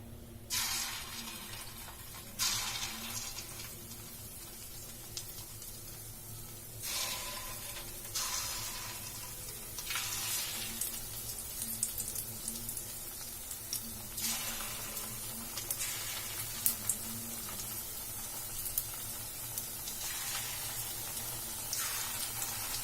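Small idli batter bondas dropped into hot oil give a steady, bubbling deep-fry sizzle, swelling in several bursts as more batter goes in, close and continuous without talk.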